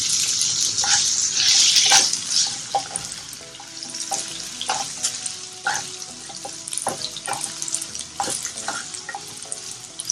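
Onion frying in a pan for Puneri misal gives a steady, close hiss of sizzling oil, with soft clinks and stirring scrapes scattered through it.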